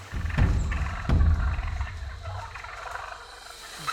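Distant gobbling calls from several wild turkeys echo over a steady outdoor background during an October morning bowhunt, with a couple of louder bursts near the start.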